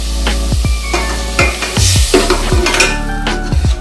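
Spice paste for chicken curry frying with a little water in a pan, sizzling steadily and close, with repeated spoon strokes scraping and clacking against the pan roughly every half second.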